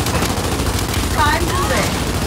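Sustained gunfire in Gears 5 gameplay, a dense continuous rattle of automatic weapons with heavy low rumble, loud and unbroken, while a character's voice calls out briefly over the shooting.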